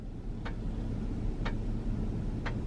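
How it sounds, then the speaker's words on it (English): Three evenly spaced ticks, about a second apart, sound from the back of a car over a steady low engine and road rumble. "Something is ticking, and it is driving me crazy."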